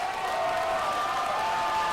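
Arena crowd at a WCWA tag-team wrestling match applauding and cheering steadily, a dense continuous wash of clapping and voices with no clear breaks.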